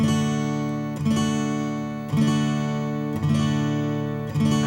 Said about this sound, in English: Start on a D. And just strum down with your pick right now.